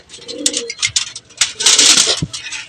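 A young racing pigeon cooing close by, giving short throaty coos and soft murmurs over about three seconds, with some rustling and handling noise around it.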